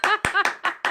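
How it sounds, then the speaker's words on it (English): One person claps alone for a musician during a live stream, about five sharp, close hand claps in a quick, slightly uneven rhythm with a tonal ring under them. "I have to clap."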